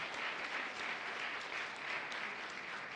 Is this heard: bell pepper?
no